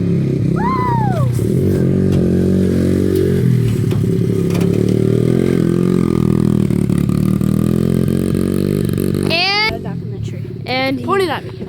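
A small dirt bike revs loudly and steadily as it is ridden on a road, its engine note rising and falling throughout, with a sharp whining rev burst near the end and voices talking over it.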